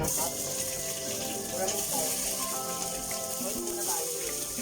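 Chopped garlic and onion sizzle in a pan of oil, a steady crackling hiss that runs the whole time beneath a voice speaking and some tonal background sound.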